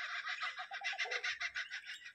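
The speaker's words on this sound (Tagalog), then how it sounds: "Yan ang mga tunog dito ng mga ibon." Birds calling in a quick series of repeated clucking chirps in Northam, Western Australia, fairly faint and at a distance, with no voices.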